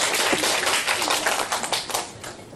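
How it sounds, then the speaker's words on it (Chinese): An audience at a weekend family math science event claps steadily and densely throughout a short burst of applause welcoming a teacher, close and fairly loud with no talking over it. "所以我们就以最热烈的掌声来欢迎我们许文化老师"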